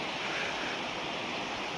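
Cold river water from the oak-forested Dudhatoli hills rushes steadily where streams meet at a confluence, a dense, unbroken roar close by with no voices.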